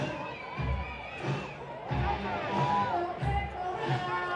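A crowd of fans cheers at a high school baseball championship in a ballpark, with rising bursts of shouts and whoops over an announcer talking.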